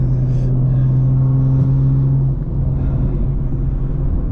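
Big-turbo BMW M340i engine and exhaust droning loudly and steadily up close, a deep held tone that drops in pitch partway through, with no voices.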